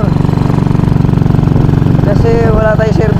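A motorcycle engine running close by, a steady loud mechanical drone with a fast, even pulse and no pauses, with a short tonal squeal near the end.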